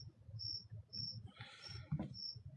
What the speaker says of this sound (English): Why is there crickets right now?